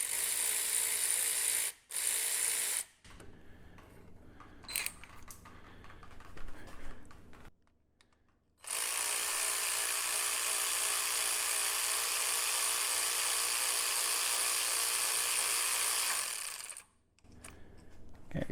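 Ratchet removing a 14 mm banjo bolt from a Mercury Marauder brake line, giving bursts of rapid close ratcheting clicks, one long steady stretch, and short pauses between.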